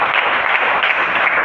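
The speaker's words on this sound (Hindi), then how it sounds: "तालियां बजा दो इनके लिए।" Steady clapping from an audience at a spiritual lecture session, a short, dense and even burst of applause heard close with no talk over it.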